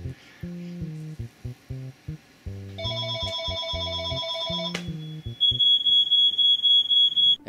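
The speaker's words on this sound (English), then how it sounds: "Phone!" A phone rings with a bright electronic tone, a few repeated trilling bursts that end in a steady high beep, set over a plucky, rhythmic musical backing.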